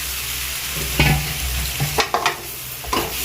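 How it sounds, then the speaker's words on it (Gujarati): Boiled gram-flour dhokli and curry leaves are stirred in a hot pan, giving a steady sizzle with several sharp scraping clinks of a spoon against the pan, close and alone. "આપણે આ રીતે હલાવી દઈશું. સારી રીતે મિક્સ કરી લઈશું."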